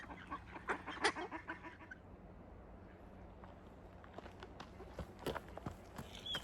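Ducks by the River Spey give a few short quacks and honks in the first seconds and again near the end, mixed with footsteps and soft outdoor background noise.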